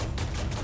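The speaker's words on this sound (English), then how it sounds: "He's shooting already at me." Enemy gunfire in War Thunder, a short dense burst of rapid shots that sounds muffled and somewhat distant.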